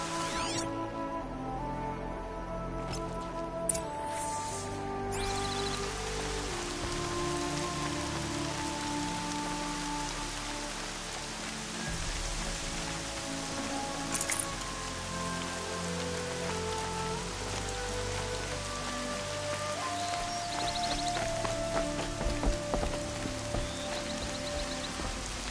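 Steady rain falls in the game Horizon Zero Dawn, a dense continuous patter on surfaces that runs without a break for the whole stretch, with game music and ambient tones layered underneath.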